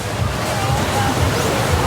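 Surf breaking on White Beach, Boracay, with wind, a steady low rushing wash that stays fairly loud and even throughout with no clear separate wave crashes.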